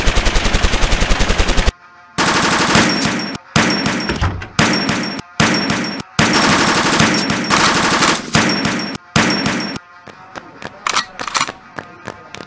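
Sound-effect gunfire for a LEGO stop-motion spy movie about a nuclear mission: loud, close, rapid machine-gun bursts broken by brief pauses, then scattered single shots and thuds near the end.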